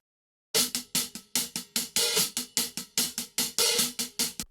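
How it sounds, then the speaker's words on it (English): A solo hi-hat drum track from a home recording plays a steady, crisp pattern of bright, hissy hits with a few longer open strokes, close and alone with no other instruments. "So the hi-hat on its own sounds like this."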